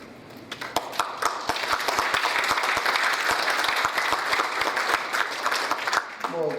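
Sustained audience applause at a peace and unification policy lecture, dense steady clapping from a large crowd for several seconds before tapering off, with a voice briefly starting to speak at the end.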